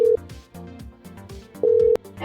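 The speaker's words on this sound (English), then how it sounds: "Right, it's ringing." A phone call rings out through the earpiece: two bursts of a steady electronic ring tone, one short at the start and a longer one near the end, with musical tones and no talking.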